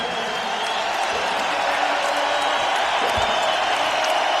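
Basketball arena crowd during an NBA playoff game between the Nuggets and Hornets reacts as a player sits down, a steady broad roar of many voices with a faint thud near the end.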